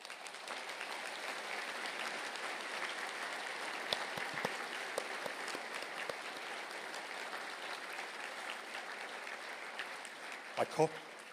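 Sustained applause from a conferring audience at ATU Galway for culinary arts graduates as they stand, an even wash of many hands clapping in a large hall, fading only near the end.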